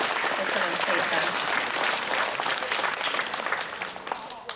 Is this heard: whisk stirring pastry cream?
no